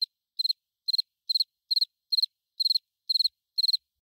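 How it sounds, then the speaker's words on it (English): A cricket sound effect chirps in short, evenly spaced bursts of three or four quick pulses, about two per second, crisp and high against total silence. "had that cricket sound effect there"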